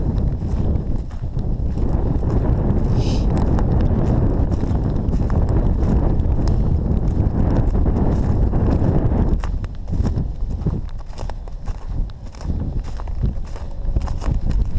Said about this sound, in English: It's awfully windy, so hopefully you can hear me.